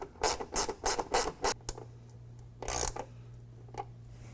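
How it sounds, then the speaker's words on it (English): A 13mm wrench ratchets a bolt tight while fitting running boards to a Jeep Gladiator, five quick evenly spaced rasping strokes close up, then a longer stroke after a pause. "we're just going to tighten it down using a 13mm."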